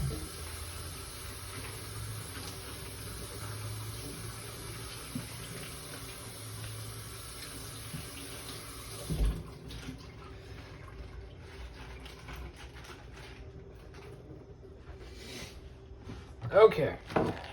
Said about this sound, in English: I'm gonna break it apart a little bit, I'm gonna wash it.